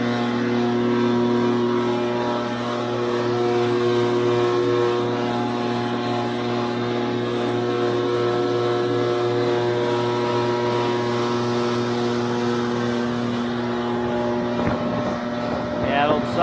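A commercial freezer's fan runs with a loud, steady droning hum and rattle as it shakes the unit, which has a replaced compressor. The tone holds unbroken, and a brief disturbance comes near the end.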